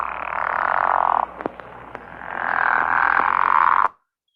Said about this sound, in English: The pickerel frog has a snore